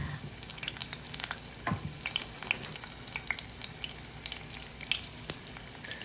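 Corn fritters, quarter-cup scoops of batter cooked two or three at a time, frying in hot oil, a steady close sizzle with scattered sharp pops and crackles throughout, no voices.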